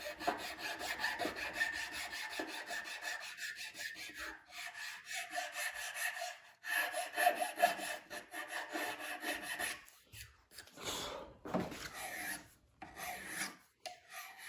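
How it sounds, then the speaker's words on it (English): Filing wood with a finer file, steady rasping strokes close up in a quiet setting, repeated in bursts separated by short pauses. "Swap to a finer file."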